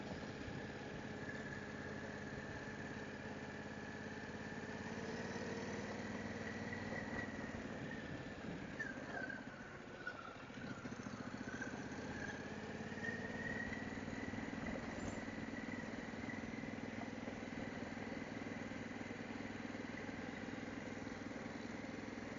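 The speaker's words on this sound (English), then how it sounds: "Never thought I'd ever see the day I'd be riding a Harley down the gravel road" A Harley-Davidson Pan America Special motorcycle rides a gravel road in Missouri. Its engine drones steadily and loudly near the rider for the whole stretch, with a brief dip in pitch midway and no talking.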